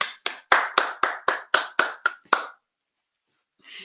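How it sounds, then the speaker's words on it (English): One person's hands clap nine times in a quick, even rhythm, sharp and close, then stop; after a pause a brief faint rustle follows. "I am going to give a standing ovation to Mr. Kupar"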